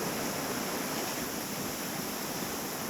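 Flowing water fills an outdoor spot where a dog is bathing. It gives a steady, broadband rushing like a stream or small waterfall, continuous and fairly loud, with no talk over it.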